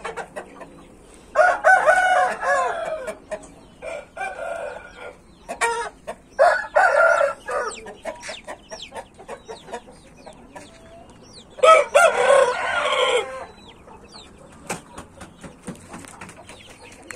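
Loud, close rooster crows repeated several times, with hens clucking and chattering in between, no speech.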